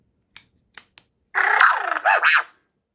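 A few sharp clicks, then a lightsaber hilt's bright electronic boot-up tone with warbling, rising and falling sweeps, loud and close.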